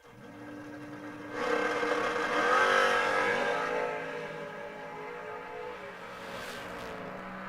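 Drag race cars, a purple Chevrolet Malibu and a 1968 Camaro, launch at a memorial race, engines swelling into a loud roar, then fading while a faint drone lingers at a distance.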